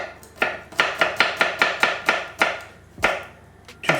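A head of garlic being sliced with a knife on a cutting board, about a dozen sharp chopping taps in an uneven, quick rhythm, close and fairly loud, with no talking.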